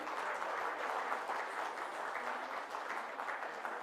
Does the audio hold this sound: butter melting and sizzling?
no